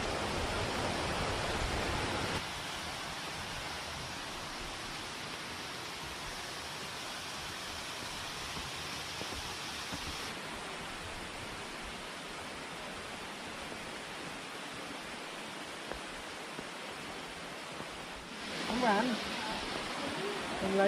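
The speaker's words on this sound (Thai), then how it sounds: "first point waterfall" A waterfall in Thailand sends up a constant broadband rush of falling water that shifts in level as the listener moves, with voices talking faintly in places.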